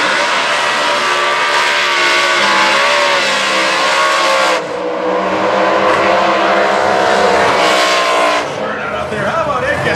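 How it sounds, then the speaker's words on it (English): 1933 Willys gasser drag car at the burnout area of an Indy drag strip, a loud, continuous roaring engine with rising revs and tire squeal, with a commentator talking over it. "120 miles per hour, 33 Willys coming into the burnout area."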